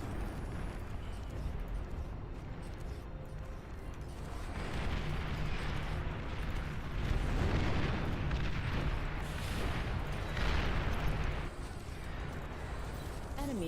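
Booming explosion of a destroyed enemy commander in the real-time strategy game Beyond All Reason, a sustained rumbling blast swelling over several seconds amid ongoing battle noise, with no talking.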